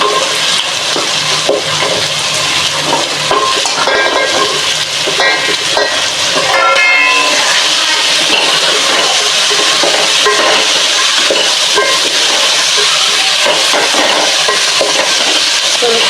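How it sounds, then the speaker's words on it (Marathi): Vegetables sautéing in hot oil for sambar, a steady loud sizzle and crackle with stirring scrapes running throughout, no voices. "आता आपण या भाज्या घालून घेऊया भाज्या पण तेलात चांगल्या परतून घ्यायच्या"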